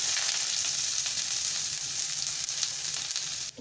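Onions sizzling steadily in hot oil in a pan, cooked as the base for Maggi-style Chinese veg noodles; a dense, continuous close-up fry with no talking.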